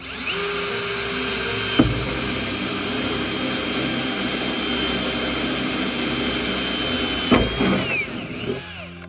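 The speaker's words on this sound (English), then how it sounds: "Drill this other hole." A power drill whines steadily and loudly for several seconds while boring a hole in a 1995 Ford F-150, with brief clicks and bumps near the start and end.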